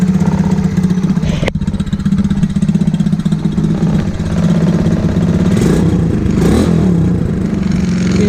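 An X15 Super pocket bike engine idles steadily with the choke pushed down, a close, loud, even low putter holding its pace throughout with a brief click near the start.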